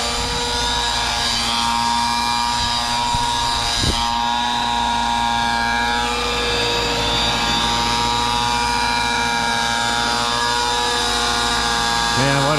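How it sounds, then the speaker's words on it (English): An Align Trex 600 RC helicopter flies close by with a loud, steady high-pitched rotor whine and motor drone that holds continuously, and a voice is heard briefly under it. "Man, what a beautiful old helicopter."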